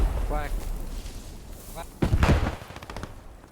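Gunfire and bullet impacts in the Post Scriptum battlefield, with scattered shots early and a louder cluster of sharp bursts near the middle, partly under a man's speech.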